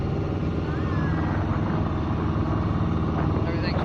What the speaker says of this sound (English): the engine noise isn't too loud